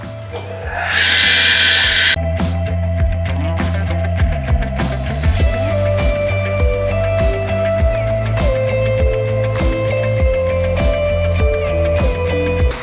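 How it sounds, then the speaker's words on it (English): A power tool rips 3.5-inch planed pallet wood into strips with one edge beveled at 45 degrees, a loud sustained whine with shifting pitch as the blade bites, after a brief hissing burst at the start. "we're going to cut up some strips with one edge at a 45 to make the cleats"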